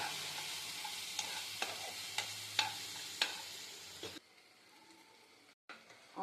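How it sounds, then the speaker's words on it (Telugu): Onions fry in a pan with a pinch of turmeric and a spoonful of salt, sizzling steadily while a spoon scrapes and stirs in regular strokes, before the sizzle drops away to near quiet. "కొంచెం ఉల్లిపాయలు వేగనియాలండి"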